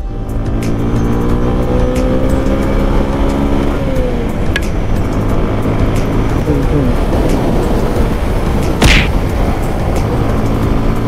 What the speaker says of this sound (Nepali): यसो ठुल्ठुलो हाइवेमा निस्केपछि बाइकको पावरै नपुगे जस्तो लाग्ने क्या